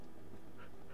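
Minecraft dog sounds, a short burst of faint panting and a soft whimper from a pack of tamed in-game dogs, quiet and close.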